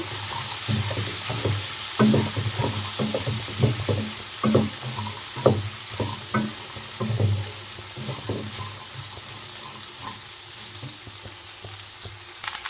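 Coconut and black chickpeas sizzle in a hot tempering pan, a steady close frying hiss broken by repeated scraping and stirring knocks, with no voices.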